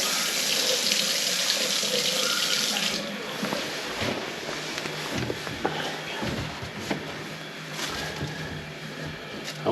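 Water gushes steadily from a tap in a house as the supply is turned back on after a long winter, a loud continuous hiss that softens slightly after a few seconds, with faint clunks beneath.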